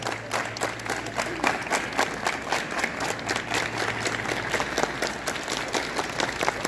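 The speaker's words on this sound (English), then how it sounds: "Hands up. Clap together." Students at a school assembly clapping together in a steady, repeated rhythm, moderately loud and continuous, with a low hum underneath and a faint voice now and then.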